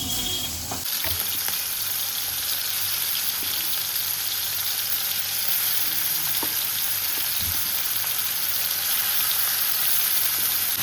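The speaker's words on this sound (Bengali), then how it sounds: "চিংড়ি মাছগুলো ভালো করে ভেজে নেবো, এই এপিট ওপিট করে" Shrimp rubbed with salt and turmeric fry in hot oil, giving a loud, steady, dense sizzle that runs unbroken throughout, with a few soft knocks from turning the pieces.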